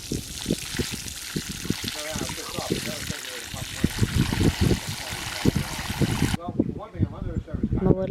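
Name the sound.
water being poured in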